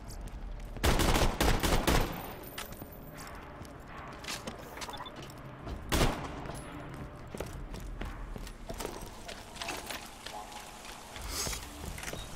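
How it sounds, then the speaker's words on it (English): Submachine gun fire in Borderlands 2, bursts of rapid shots and sharp reports over busy game sounds, loud at first with quieter sporadic firing afterward. "I'll stick to the tried and true SMG here"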